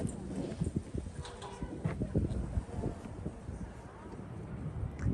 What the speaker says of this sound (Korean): 바람 소리가 너무 시끄러워가지고 따로 녹음을 합니다